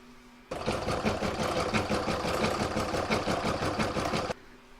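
An embroidery machine stitches an in-the-hoop floral topper design, a fast, even mechanical whirring rattle that starts abruptly, runs steadily for about four seconds up close, then cuts off.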